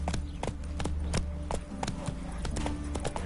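Roach, Geralt's horse in The Witcher 3 on PS5, moves along with a steady clip-clop of hooves, a regular run of fairly close hoofbeats over a low background hum; no talking.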